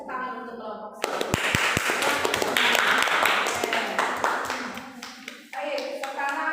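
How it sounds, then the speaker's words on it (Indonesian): Classroom students clap for a group that has just presented, a burst of hand claps starting abruptly after a moment of talk, filling most of the span, with a teacher's voice returning near the end. "Ayo kita berikan tepuk tangan untuk kelompok satu."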